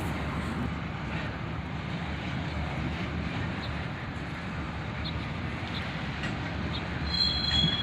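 A CSX SD70MAC freight train crawls slowly around a curve, giving a steady low rumble of rolling wagons with faint wheel squeals above it, heard from a moderate distance.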